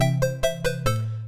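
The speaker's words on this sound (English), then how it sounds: "I bought this Commodore 64 chip sound plugin" Commodore 64 style chip sound synthesizer plugin playing a short melodic phrase of buzzy, harmonic-rich tones over a sustained low bass note, with several distinct note changes about every fifth of a second, loud and clean with no voices.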